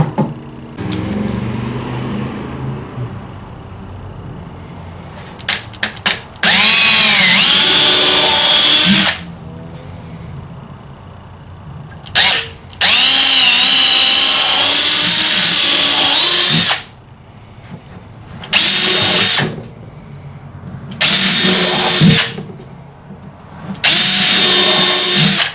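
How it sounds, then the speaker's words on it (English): A power drill pre-drills holes in a water tank ring for a DIY travel trailer build, running in several loud bursts of steady whine separated by short pauses, with quiet handling noise in between. "go ahead and pre-drill these"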